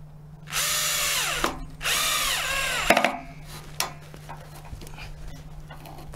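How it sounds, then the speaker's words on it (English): A Logosol bandsaw mill whines loudly through a log in two long cuts, then drops to a low motor hum with scattered knocks and clatter. "Once three sides of the log have been cut, you can start sawing your planks and boards."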